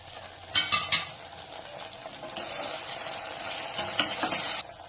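Okra pieces frying with onion in a pan, a steady close sizzle broken by scraping stirs and a few clinks of a spatula against the metal.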